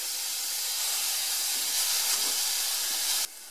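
Beef mince cooking in a pan, a loud, steady, close hiss of searing meat that cuts down abruptly near the end.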